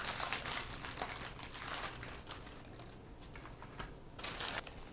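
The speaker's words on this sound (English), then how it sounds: "Now I'm going to crush up these graham crackers." Graham crackers, cinnamon-flavoured, crushed inside a zip-top plastic bag with a rolling pin: a steady run of crinkly, crunchy crackling bursts close to the mic, with no talking.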